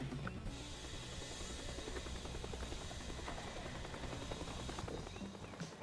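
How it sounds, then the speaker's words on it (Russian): Helicopter in the video game Teardown, a close, continuous rotor thrum and whine holding steady throughout before easing slightly at the end. "Вертолет слишком странно повернулся."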